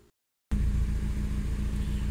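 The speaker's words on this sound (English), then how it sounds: "I've been idling for a little while" A Mazda Miata running E85 flex fuel idles steadily, a low rumbling engine with a regular pulsing beat, starting abruptly after a brief silence and holding close and even.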